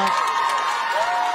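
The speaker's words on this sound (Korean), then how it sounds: "다시 한번 뜨거운 박수 부탁드립니다." Studio audience at a televised K-pop idol audition show cheers and applauds, with crowd shouts and whoops over a short burst while a tone and background music carry underneath.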